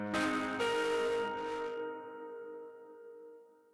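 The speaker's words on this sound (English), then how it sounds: "So now the distortion is now the reverb is being distorted." A distorted reverb tail in FL Studio starts with a bright, crunchy attack, then a sustained harmonic tone rings on and slowly fades over a few seconds.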